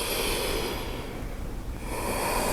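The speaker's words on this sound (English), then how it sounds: "I can hear lots of good breathing" Several people in a yoga class breathe audibly in steady, close airy exhales and inhales, with a brief quieter lull in the middle and no talking.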